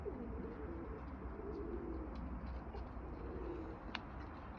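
Pigeons or doves coo softly inside a poultry coop under a constant low rumbling background hum, with a few faint scattered calls.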